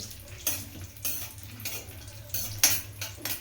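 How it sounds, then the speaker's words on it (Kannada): Dry fruits roasting in two tablespoons of ghee while a spoon stirs them around a pan, giving repeated metallic scrapes and clinks about every half second over a low sizzle, close and with no talking. "ಎರಡು ಟೇಬಲ್ ಸ್ಪೂನಷ್ಟು ತುಪ್ಪನ ಹಾಕ್ಕೊಂಡು ಅದಕ್ಕೆ ಡ್ರೈ ಫ್ರೂಟ್ಸ್ನ ಹಾಕ್ಕೊಳ್ತೀನಿ"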